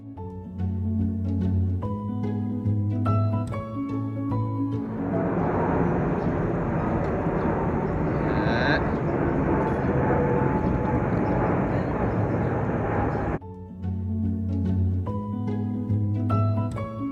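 Steady, loud engine roar inside the cabin of an Emirates Airbus A380 getting ready for takeoff. It swells to a full broadband rush for several seconds and then drops back, with tonal sounds heard before and after.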